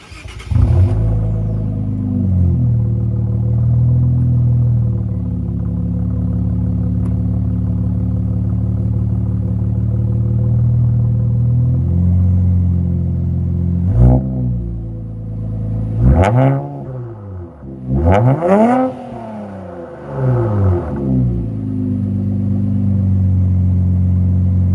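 An Infiniti Q50 3.0T fitted with an aftermarket HKS exhaust idles with a deep, steady rumble, then is revved three times in quick succession, each blip rising sharply and falling back to idle, loud and close.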